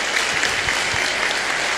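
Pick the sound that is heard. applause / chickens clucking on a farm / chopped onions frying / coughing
applause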